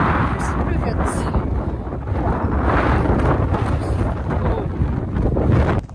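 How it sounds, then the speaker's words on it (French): Strong wind buffets the microphone with constant low rumbling and gusty roar, loud and close, throughout the whole stretch outdoors near horses. "Il y a beaucoup de vent et il fait pas très beau."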